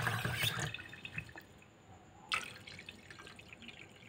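Water is poured into a pot for boiling an herbal remedy, a short splashing pour at the start followed by a second brief splash and quieter dripping afterward.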